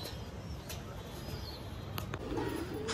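Green Madrasi pigeons coo softly and low amid a steady background hum, with a faint flutter near the end.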